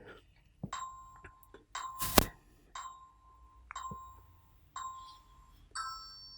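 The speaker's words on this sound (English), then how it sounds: "once you hear the chime, go ahead and bring it down" Bright electronic chime signal in an ab and lower core workout, struck repeatedly in clear ringing tones with fading tails, one louder clattering hit near the middle, fairly quiet overall.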